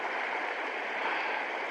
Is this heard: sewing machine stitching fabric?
no